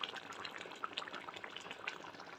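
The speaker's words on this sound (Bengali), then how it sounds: "আমাদের দেশি মুরগির ঝোল একবারে টকবক টকবক করে ফুটছে" A pot of Bengali country chicken curry boiling on the stove, a dense close bubbling and popping that stays steady throughout, with no voices.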